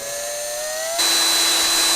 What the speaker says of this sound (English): Right, so I've got the drill bit in, so we'll just go nice and slow.